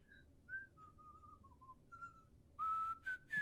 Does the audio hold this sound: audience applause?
no